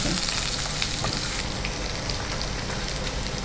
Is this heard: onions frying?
yes